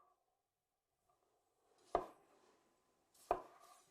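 A knife quarters large tomatoes for shakshuka on a board in a quiet kitchen, giving two distinct, sharp chopping thuds about a second and a half apart.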